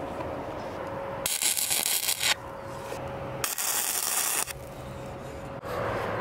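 A YesWelder MIG-205DS running a MIG weld on thin 16 gauge tubing at low heat, loud close crackling and hissing in two bursts of about a second each, separated by quieter pauses.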